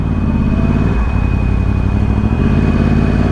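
A 2013 Yamaha R1 ridden in standard mode gives a loud, close, steady engine drone with low harmonic pulsing and a brief dip in pitch around the middle, with wind-like noise and no talking.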